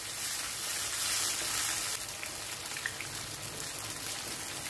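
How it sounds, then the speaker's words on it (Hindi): Garlic ginger paste frying in a pan gives a steady, soft, hissing sizzle with scattered small pops, fairly quiet and heard alone. "ये भी इसमें शामिल कर देंगे और इसको अच्छा सा भून लेना"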